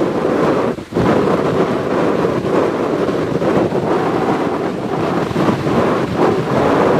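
Very strong sea wind roars and buffets the microphone over crashing surf on Lyubimovka beach, a loud, continuous wash of wind and breaking waves with no voices.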